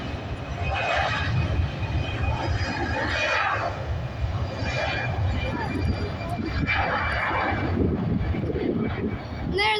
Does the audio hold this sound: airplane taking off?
yes